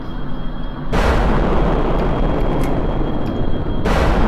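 Missiles exploding in the video game Kerbal Space Program, a loud sustained roar of blasts starting abruptly and rumbling on, then a second burst at the end, with no talking.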